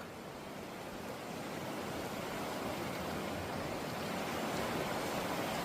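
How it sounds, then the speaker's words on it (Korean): Mountain valley stream at Gayasan, a dense, steady rush of flowing water filling the scene evenly and growing a little louder, with no voices. "이야 계곡 멋집니다"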